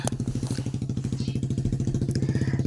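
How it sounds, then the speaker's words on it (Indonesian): A motorcycle engine stuck in mud on a rough, bad road in Seko, Sulawesi chugs in a steady, fast, close-up pulsing rhythm with clattering. "di perjalanan saya ketemu dengan motor yang tidak muat apa-apa tapi terjebak di lumpur"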